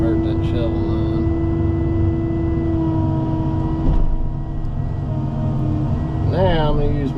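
Skid steer engine in a video game, a steady droning motor hum running through the whole stretch with a rising rev near the end, loud and close, with someone talking over it.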